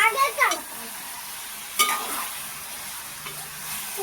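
Chicken tomato curry is stirred in a frying pan, a spoon scraping and sizzling in a few short strokes near the start and again partway through over a faint steady sizzle, with no voices.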